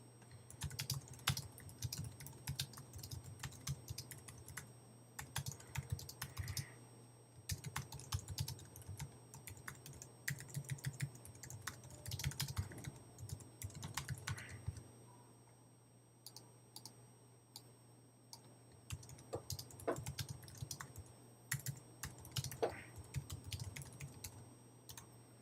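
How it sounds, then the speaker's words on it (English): Steady rapid typing on a computer keyboard, clicking keys in long runs with a brief pause midway, close and fairly quiet. "And you can just start it by typing in the text."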